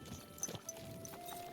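Brief clopping of a horse in Kingdom Come: Deliverance II, a few soft hoof steps close by over a quiet ambient bed.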